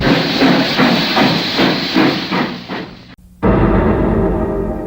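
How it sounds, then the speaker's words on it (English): Old-fashioned steam train in a radio advertisement, loud rhythmic chuffing with hissing steam that fades, cuts out briefly, then returns as a strong steady rumble. "Take a trip to yesterday on the old-fashioned steam train. All aboard!"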